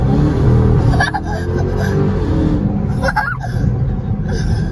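Dodge Hellcat with a factory exhaust pulling hard under acceleration, a steady loud engine roar and rumble running throughout, with brief breathy voice sounds from a passenger mixed in.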